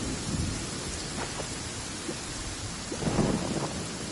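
Steady rain pours in the game Genshin Impact while low thunder rumbles roll in twice, close and heavy, with no voices over it.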